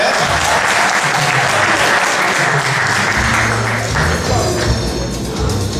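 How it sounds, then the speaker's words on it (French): Audience applause fills the hall at the final of a Haitian quiz show in Paris: dense, loud, sustained clapping from a large crowd that holds steady for several seconds without pause. "Applaudissez s'il vous plaît."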